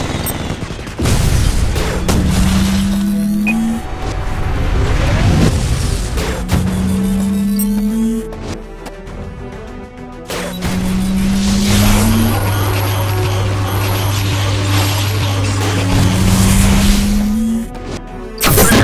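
An artillery barrage in the video game Empires & Allies: repeated booming explosions and crashes land in bursts over a rising synthetic tone, loud and close, with game sound effects in between.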